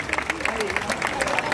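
Audience applause at an outdoor Sunday concert at a park bandstand kiosk in Zaragoza: a short burst of dense, steady clapping with crowd murmur and a voice over it.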